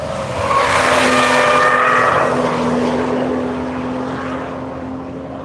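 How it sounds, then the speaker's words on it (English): Tires squeal loudly as a race car is pitched sideways on track during the Tire Rack One Lap of America, likely a BF Goodrich Type R entry, with sustained engine roar and a drawn-out tonal squeal that slowly fades. "Pitching that car sideways a little bit, letting the tires sing."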